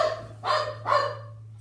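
A dog barks twice in quick succession, close and loud, with a short pause between the barks and no voices over them, in a home kitchen while chili is being cooked.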